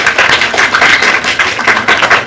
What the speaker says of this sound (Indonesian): Kita beri tepuk tangan untuk kita masing-masing.